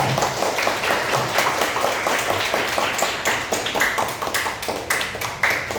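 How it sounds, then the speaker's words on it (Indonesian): A classroom full of people claps together, dense and continuous applause lasting several seconds with no one speaking over it. "Tepuk tangan dulu ya."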